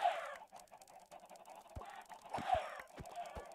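Chickens in the video game Minecraft let out short clucking squawks, two brief bursts a couple of seconds apart, with soft thumping hits between them in an otherwise quiet scene.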